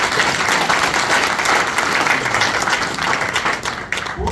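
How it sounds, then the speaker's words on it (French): A crowd of invited guests applauds steadily and loudly at a business gathering, a dense, continuous wash of clapping that fades slightly near the end. "je vous demande, vous les invités, d'applaudir"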